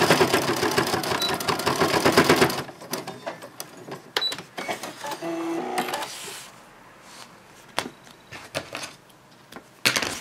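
Sewing machine stitching a changing-bag project: a fast mechanical whirr of stitching gives way to slow, uneven taps and clicks as the machine steps through slow reverse stitches, close up and without speech.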